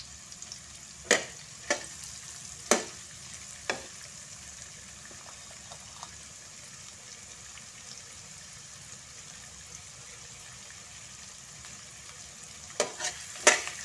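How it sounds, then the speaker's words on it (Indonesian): Ingredients sautéed in a pan until wilted for sambal ayam: a soft, steady sizzle broken by several sharp clinks and scrapes of a utensil stirring, with no one talking. "Ni tak payah tumis garing, ni sampai layu saja."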